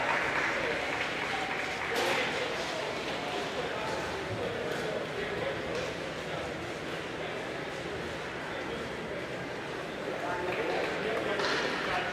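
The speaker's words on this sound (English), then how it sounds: "Another nice round of applause for both these teams." Arena crowd applauds both PeeWee boys' hockey teams lined up on the blue lines after a championship game, a steady, dense wash of clapping and crowd noise lasting throughout.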